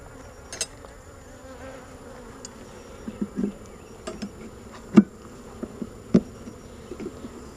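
Worker honey bees buzz steadily and softly around an open hive during an inspection. Faint clicks and light knocks of hive equipment are heard close by.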